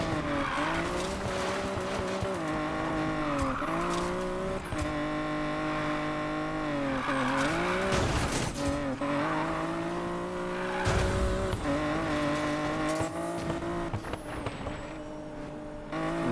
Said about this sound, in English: So the sound effect of the car